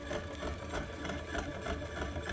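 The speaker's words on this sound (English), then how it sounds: "And don't worry, this coil winding's almost done." A coil-winding machine wraps wire onto an electromagnet coil, giving a steady close mechanical whir with a fast, even rattle throughout, alone without talk.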